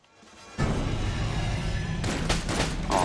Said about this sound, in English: Okay, so it's like a grenade launcher.